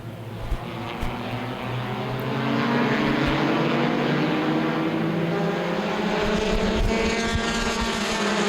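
Stock cars in the Vore's Compact Touring Series roar off from the green flag at Winchester Speedway, with engine noise swelling from distant to a loud, sustained multi-car drone.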